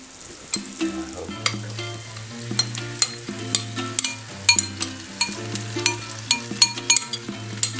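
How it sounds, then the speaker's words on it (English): Pancake batter sizzles in a hot pan with a steady frying hiss, punctuated by repeated clinks and scrapes of a utensil. "Once it starts sizzling, it's ready to go."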